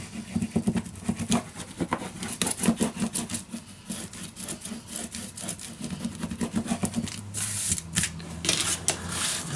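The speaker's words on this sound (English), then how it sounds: "Burnish it down." Paper for a mini album in a storage box is burnished down with quick, repeated rubbing strokes, a dense, scratchy swishing at close range with no voices.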